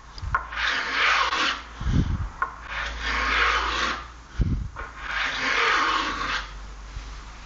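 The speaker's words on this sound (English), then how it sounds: "Let's have a look at what it's like to use as a low angle block plane." HP 8 mini block plane, used low-angle, chamfering a wood edge: three long rasping strokes of the blade shaving wood, close and steady, with short bumps between passes.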